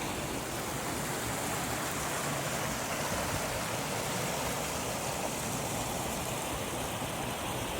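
A creek flows steadily outdoors near a ledge, giving a constant, broad rushing wash at low volume with no breaks and no voices.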